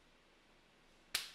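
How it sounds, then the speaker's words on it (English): A single sharp clap near the end, loud and close, after a stretch of quiet room tone. "Maybe I'll clap over here."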